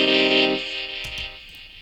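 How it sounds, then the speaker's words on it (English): Sung word 'Velocity' processed through a vocoder for the Velocity Noodle soundtrack, a single buzzy, harmonically rich synthetic vocal phrase up close, sustained then trailing off into a faint tail. "And with the vocoder turned on, it sounds like this."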